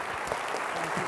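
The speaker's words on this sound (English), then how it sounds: "please give another round of applause" A debate audience applauds, steady clapping filling the short moment at a moderate distance.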